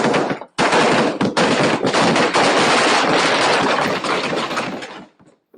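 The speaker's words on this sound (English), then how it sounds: "there are smaller, more intimate fireworks displays. A long day of celebrations is coming to an end, and it's going out with a bang." Fireworks set off at the close of a long day of celebrations: a dense, rapid barrage of loud, close bangs that runs almost without a break for about five seconds, then cuts off.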